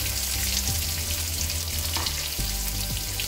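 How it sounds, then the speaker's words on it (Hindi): Curry leaves and a dried red chili sizzle steadily in hot oil for a masala rice sevai, a continuous close crackle with faint scraping from stirring and no talk. "थोड़ा करी लीफ, एक लाल ड्राई मिर्च, इसको थोड़ा फ्राई कर लीजिए"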